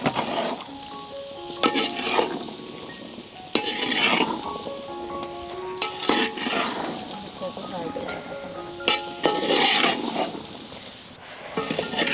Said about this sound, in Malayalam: നെല്ലിക്ക ഇതിലോട്ടിട്ട് നമ്മൾ ഉപ്പും കൂടി ഇട്ട് എന്നിട്ടൊന്ന് ഇളക്കി എടുക്കുക